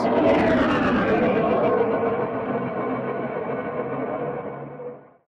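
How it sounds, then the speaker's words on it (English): A dense, distorted whooshing roar with a gritty, synthetic texture, holding steady and loud before fading out abruptly near the end, like a processed rocket effect. "I really wanted that cool, distorted rocket ship noise"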